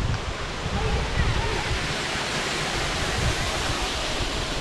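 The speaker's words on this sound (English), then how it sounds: "This is what the top of the waterfall looks like." Rushing water at the top of a waterfall on the Elidir Trail in the Brecon Beacons, a steady broadband roar that is loud, close and continuous, with no break and no voices.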